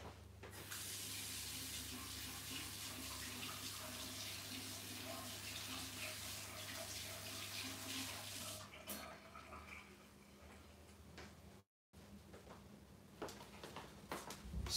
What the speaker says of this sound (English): I wash my brush.